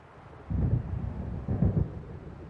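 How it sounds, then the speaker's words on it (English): Thunder from a storm in Alan Wake rolls in two low, heavy rumbles about a second apart over a steady wind-like background, with no voices. "It seems there's a storm coming."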